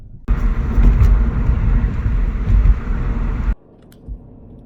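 A small car rolling along the road, a loud, close engine and road rumble that starts abruptly, holds steady for about three seconds, then cuts off into near quiet.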